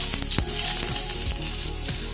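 Chopped onion, green chilli and curry leaves fry in about three tablespoons of oil in a frying pan, giving a loud, continuous close-up sizzle with faint stirring knocks and no speech.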